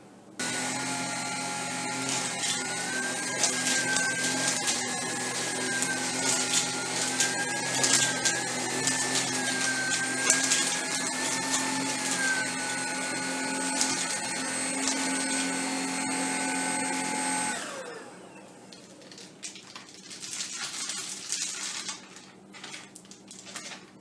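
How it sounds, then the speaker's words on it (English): A Tineco Pure One S15 cordless stick vacuum's steady high-pitched motor whine runs loud and close as it picks up Froot Loops cereal on carpet, then cuts off abruptly, leaving quieter clattering and rustling. "we put down some Fruit Loops, ran the vacuum over them."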